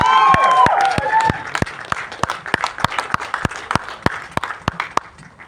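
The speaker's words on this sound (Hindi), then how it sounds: "जोरदार तालियां for this man." Audience applause greets actor Randeep Hooda at a Jaat movie trailer launch press event: sharp, scattered claps ring out, with whistling and cheers early on, then thin to separate claps.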